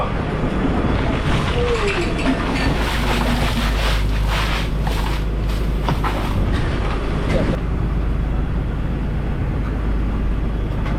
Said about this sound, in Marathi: आता मी क्रिझम बोटीमध्ये आहे आमच्याच गावातील बोट आहे आणि बोट आता सुटली आहे